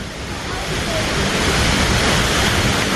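Skógafoss waterfall in Iceland roars as a loud, continuous broadband rush of falling water, close by and unbroken, with spray and wind in the background.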